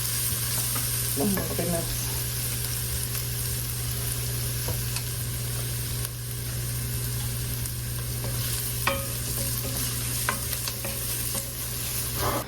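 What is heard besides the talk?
onions and celery sautéing in a pot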